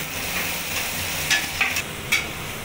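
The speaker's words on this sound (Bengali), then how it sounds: "মশলাটা ভালো করে ভাজা হয়ে গেছে" Spices fry in a pan with chopped tomato and green chili, a steady soft sizzle with a few quick stirring scrapes near the middle.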